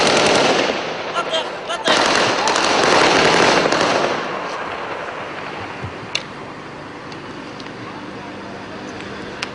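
Gunfire exchanged during a confrontation in Nablus: a dense burst of rapid, crackling shots for about four seconds, then thinning to sparse, fainter distant pops.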